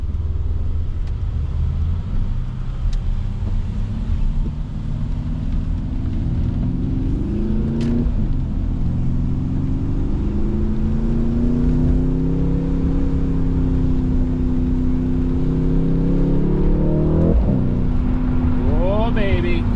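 A Mercedes-AMG twin-turbo V8 in Sport Plus mode, heard from inside the car, gives a loud continuous engine rumble that rises and falls in pitch as it accelerates through a corner, with brief speech over it.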